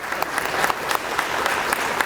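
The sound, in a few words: audience applause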